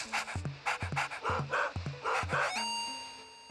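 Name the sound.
dog panting in video game Luigi's Mansion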